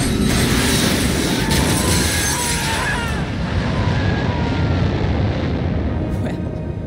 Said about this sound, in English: Step three, pull the ejector seat handle